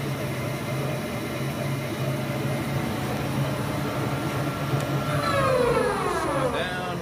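Bridgeport Romi EZ Path lathe spindle spinning at speed, a steady mechanical hum with tonal whine that sweeps downward near the end as it slows, heard up close.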